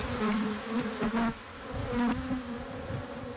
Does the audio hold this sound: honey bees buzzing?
yes